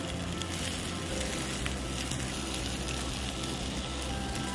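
Mint, coriander and curry leaves fry in hot oil for bagara rice, giving a steady, loud, continuous sizzle that fills the whole stretch with no talking.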